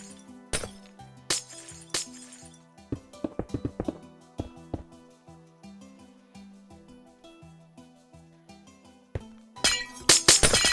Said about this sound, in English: glass is like the most irritating sound in the game